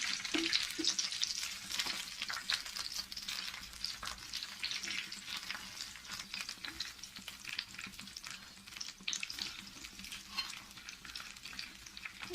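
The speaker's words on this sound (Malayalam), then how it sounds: "ഒന്ന് ചെറുതായിട്ട് ഫ്രൈ ചെയ്തിട്ട് എടുത്താൽ മതി" Paneer cubes fry in a pan of oil for a chilli paneer dish, giving a steady, close, continuous sizzle with faint crackles and occasional stirring scrapes, without talk.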